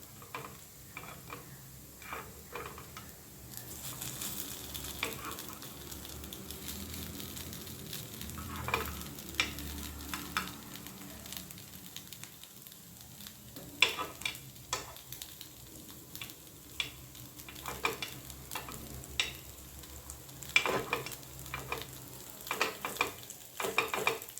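Sweetcorn batter appe roast in oil in an appe pan, with a steady soft sizzle and scattered light ticks and taps of a utensil turning them, fairly quiet throughout.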